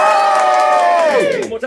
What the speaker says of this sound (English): Just cheer, and we'll see which one gets the loudest cheer.